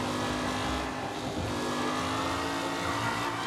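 Race car engine in the Mafia Definitive Edition video game, a steady droning motor with a sustained tonal whine, continuous and fairly even in loudness throughout, with no talk.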